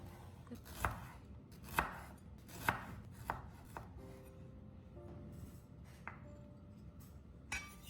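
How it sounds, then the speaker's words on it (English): Ginger sliced into thin pieces on a cutting board, a run of sharp, evenly spaced knife chops followed by a few fainter cuts and one last chop, close and quiet with no talking. "After washing the ginger, slice it into thin pieces so its essence can be absorbed more easily."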